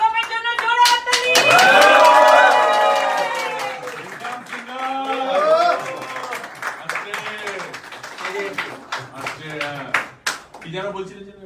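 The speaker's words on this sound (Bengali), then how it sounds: "আমাদের বাংলার সিঙ্গামের জন্য জোরে হাততালি" Crowd clapping at a film launch ceremony on Ganesh Chaturthi, loud bursts of applause that swell early and then thin into scattered claps, mixed with a voice talking over the crowd.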